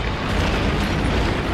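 Continuous loud rumbling blasts in Call of Duty: Ghosts, a dense roaring wash of explosions with no pauses, close and heavy throughout.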